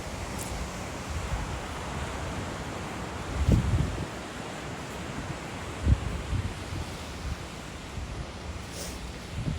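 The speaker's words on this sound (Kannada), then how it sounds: "ನೈಟ್ ಟೈಮ್ ಸಮುದ್ರ ಅಲೆಗಳ ಸೌಂಡೇ ಸಕ್ಕದಾಗಿರುತ್ತೆ ಅಲ್ವಾ?" Sea waves wash onto a beach at night near Mangalore, a steady broad rush of surf and wind with a few louder breaking surges standing out, and no voices.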